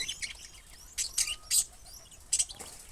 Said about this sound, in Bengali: এখানে আরো কবুতর আছে, মানে কবুতরের বাচ্চা আছে 2টা।